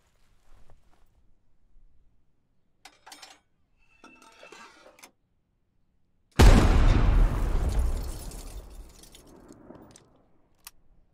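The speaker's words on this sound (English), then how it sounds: "enjoy some Hell Cannon ASMR" In the video game Squad, a few faint clicks and rustles, then a propane mortar cannon fires a sudden loud booming blast that rumbles and slowly fades over several seconds.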